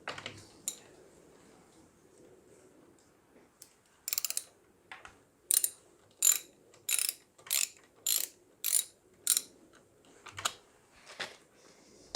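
Socket wrench ratcheting a 10mm bolt off the oil filler cap of a Tohatsu outboard motor, a run of about eight crisp evenly spaced ratchet clicks, close and distinct in a quiet setting after a few scattered clinks.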